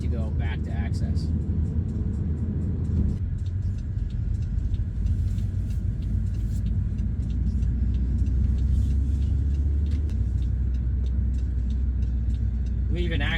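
A car passes through a highway interchange in Dartmouth, Nova Scotia, during a road test. Steady engine and tyre rumble runs throughout, with a shift in road noise partway through, heard from inside the vehicle.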